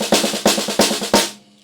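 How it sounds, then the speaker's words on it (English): Right-hand tripletized ruffs on a snare drum, each an accented stroke led by quick grace notes, ring out in four evenly spaced, crisp, close bursts before decaying to silence. "I'm going to play a series of the right hand tripletized roughs"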